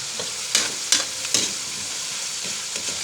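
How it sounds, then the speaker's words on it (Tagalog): Chicken sautéed in a pan, a close, bright sizzle with a few sharp stirring scrapes early on, then steady frying noise, no talking. "Igigisa natin yan."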